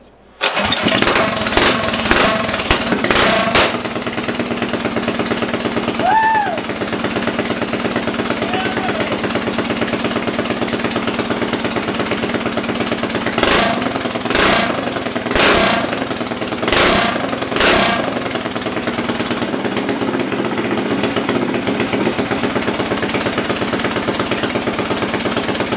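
Stroker engine on a 65 mph mini bike, choked and running at partial throttle: it starts with a sharp burst of revs, then settles into a loud, close, steady chugging idle, with occasional throttle blips.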